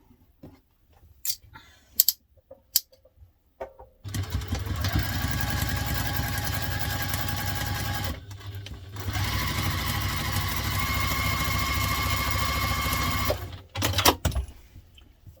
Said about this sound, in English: I'm going to take this to the machine and we're going to stitch that.